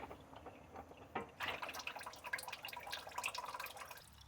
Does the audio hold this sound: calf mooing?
no